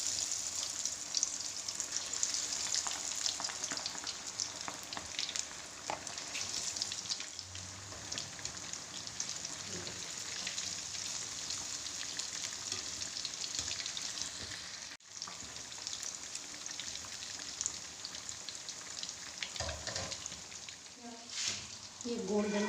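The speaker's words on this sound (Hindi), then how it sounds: "अब आपने इसको ना डीप फ्राई कर लेना, ज़रा हल्की आंच पे" Masala fish deep frying in oil on low heat makes a steady, hissing sizzle with crackling pops throughout, fairly close, with brief rustles and a voice speaking faintly at times.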